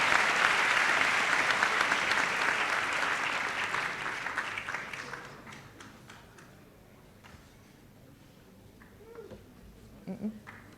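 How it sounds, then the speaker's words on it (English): An audience at The Settlers High School valedictory ceremony claps as graduates return to their seats, steady loud applause that tapers off after about five seconds into quiet room noise with a few faint knocks. "Let's give them a final round of applause as they go and sit down"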